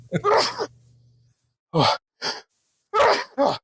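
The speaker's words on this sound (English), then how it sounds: "I feel like I'm going to sneeze." A single loud sneeze close up, followed by several short breathy bursts and sniffs after a brief pause.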